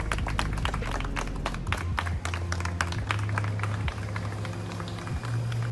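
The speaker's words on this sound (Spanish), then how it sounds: "entre aplausos de fanáticos" Fans applaud outside a hotel in northern Bogotá as the body of Foo Fighters drummer Taylor Hawkins is carried out, a steady patter of clapping with scattered sharp claps over low rumbling street and engine noise.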